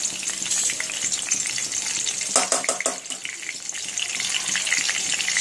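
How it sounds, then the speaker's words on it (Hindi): Curry leaves hitting hot oil for butter chicken, a bright, close, continuous sizzle with a sudden burst of crackling spatters midway that settles back into steady frying hiss. "अभी ऑयल अच्छे से गर्म हो चुका है, इसमें हम कड़ी पत्ता डालेंगे।"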